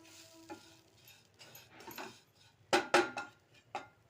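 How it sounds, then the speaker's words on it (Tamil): Mango pickle is stirred together in a pan with a faint sizzle, light clinks at first, then a cluster of loud scraping stirs near the end. "ஒரு பெரட்டு பெரட்டி எல்லாத்தையும் எல்லாம் ஒன்றா மிக்ஸ் ஆகணும்"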